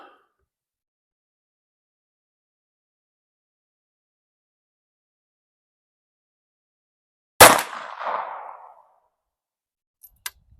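A single sharp crack from a live round fired by a Ruger Mark II pistol outdoors, loud and close, with a short decaying echo after a long silence, then a couple of faint ticks near the end.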